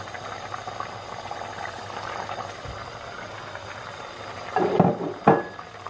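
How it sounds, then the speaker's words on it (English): Water simmers in a pot with a steady low bubbling before rice is added, and two brief knocks or clatters sound near the end. "So I'll leave that to simmer for just about a minute"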